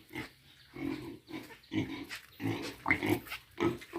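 Pigs grunting and squealing close by in irregular bursts, several animals snorting over one another.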